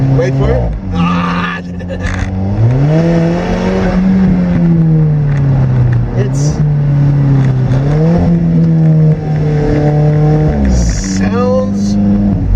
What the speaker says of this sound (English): Sounds like a four-cylinder symphony, and it's deep too.